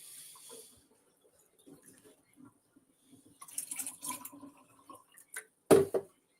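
Water pours or runs at a faucet in a quiet room, with faint intermittent trickles and splashes building to a louder gush near the end, heard alone without talk.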